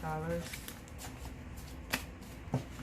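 Paper cash bills rustle and flick as they are counted and tucked into budget envelopes, a steady soft shuffling with a few sharper snaps, while a voice talks over it.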